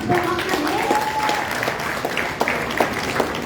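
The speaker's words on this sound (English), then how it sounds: "Give a big round of applause." An audience at a women's mentorship event claps after an appreciation announcement, moderate steady applause with some crowd murmur and a faint tonal hum in the background.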